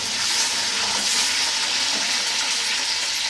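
Ginger and green chillies sautéing in a pan for tomato chutney, a steady close sizzle and crackle of frying with light stirring throughout, no talk.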